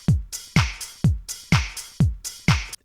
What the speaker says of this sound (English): It's a cool snap sound.